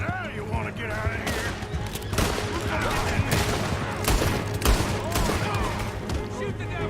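A rapid fusillade of gunfire in Red Dead Redemption 2, with dense overlapping shots and loud cracks throughout, mixed with in-game voices and shouting.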